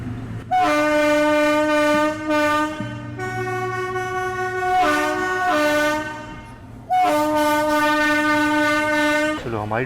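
Train horn blasts repeatedly, loud and close, as an express train pulls out of a station, with sustained harmonic toots separated by short breaks over rumbling rail noise.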